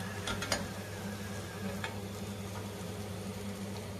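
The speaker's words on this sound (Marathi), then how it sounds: "आपण सगळ्या पुऱ्या तळून घेऊ" Masala puris fry in hot oil, giving a steady close sizzle throughout with a few faint clicks and ticks early on, and no talk.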